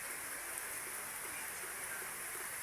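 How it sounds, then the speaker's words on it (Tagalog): Light, intermittent rain falls in steady broadband patter with no distinct drops standing out, a soft, even wash of water sound with no talking. "Kahit ganyan lang ang ulan, pa bugso-bugso lang, ayos na yan."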